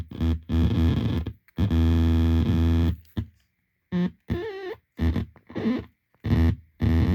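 A buzzy, distorted electronic tone from a pencil-drawn circuit being tapped sounds in short bursts, starting and stopping abruptly, with the pitch shifting between some bursts.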